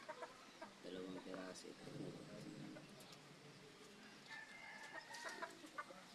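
Small Serama chickens, including a rooster, cluck in short bursts near a farm coop, with someone speaking Filipino over them throughout.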